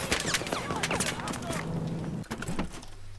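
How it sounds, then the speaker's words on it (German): Shotgun blasts ring out in the video game Battlefield 4, several sharp bursts spread across a few seconds amid game noise, with someone talking over the action. "Ja, jetzt müssen wir Schrotflinten-Action machen."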